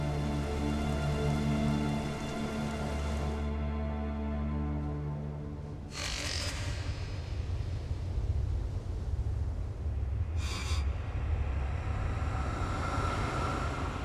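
A brief rain shower at sea falls as steady hissing patter, loud and close, taking over after a sustained tonal drone fades out midway, with a couple of short bright bursts.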